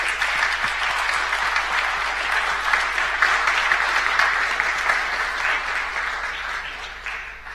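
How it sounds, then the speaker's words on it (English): Sustained audience applause for conference panelists, a dense, steady wash of clapping at an even level from start to end, easing slightly in the last second, with no talk over it. "please join me in an applause for our panelists"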